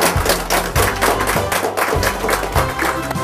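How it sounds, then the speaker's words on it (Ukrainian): Studio audience applauding both teams on a televised quiz show, steady dense clapping throughout with a low rhythmic thumping beat underneath. "І цілком закономірно оплески обом командам"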